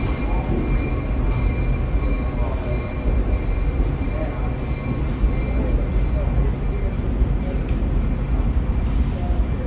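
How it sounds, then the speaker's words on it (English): Chicago L elevated train passing overhead on the tracks above a street, a loud continuous rumble with faint squealing wheels, steady throughout, with people talking nearby under the noise. "There you hear the L train going above us."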